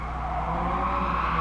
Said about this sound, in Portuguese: Sinta o ronco do boxer!